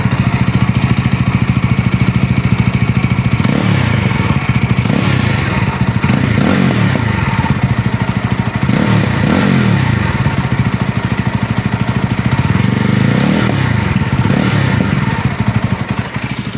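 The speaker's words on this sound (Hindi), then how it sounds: "This is how the exhaust sounds." A Yezdi Roadster motorcycle exhaust revs repeatedly, rising and falling in several loud bursts over a steady, rumbling idle, close up with no talking.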